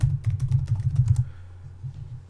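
Rapid clicking keystrokes on a computer keyboard, close and clear, in a quick burst that tapers into a few scattered presses and a low hum.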